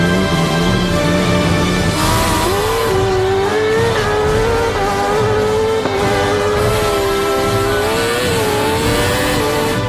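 A 650cc drag racing motorcycle accelerates hard down a drag strip, its loud engine howling continuously and rising in pitch through the gears, close and dominant for the whole stretch.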